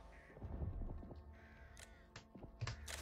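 Several crows caw in the video game Back 4 Blood, harsh calls mixed with sharp flapping and clattering bursts over low game ambience.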